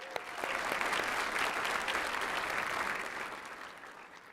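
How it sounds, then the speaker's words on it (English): Warm applause from a luncheon audience honoring an award recipient, steady full clapping that holds for several seconds before easing off slightly. "Shireen, please stand so that we can applaud you."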